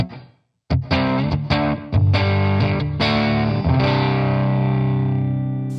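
Distorted electric guitar through a Line 6 Helix preset with a room effect, strummed chords and picked notes ringing out with a roomy ambient tail, loud and sustained after a brief silence.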